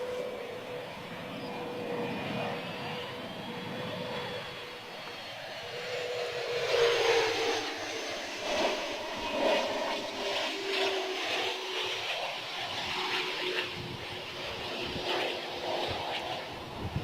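An airliner coming in to land at Bristol Airport in gusty conditions, a steady engine drone with a whining tone that swells louder as it nears and passes, then a rumbling roar fading slowly.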